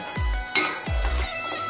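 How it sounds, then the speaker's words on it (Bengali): Peanuts stirred in hot ghee in a pan for a sweet peanut snack; two quick scraping sweeps of the spoon over a soft sizzle, close and quiet. "এটাকে এখন নাড়তে হবে,"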